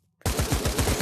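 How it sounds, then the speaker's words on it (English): Assault rifle in the VR shooter game Pavlov fires a fast, loud automatic burst of rapid evenly spaced shots after a brief silence. "Respect the assault rifle, Karen."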